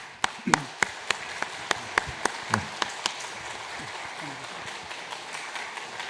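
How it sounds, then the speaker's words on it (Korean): At a church event a small audience welcomes a comedian with applause, heard as a series of distinct, fairly faint claps in a steady rhythm that taper off, with a voice murmuring underneath. "우리 나오실 때 크게 박수로 환영하시겠습니다"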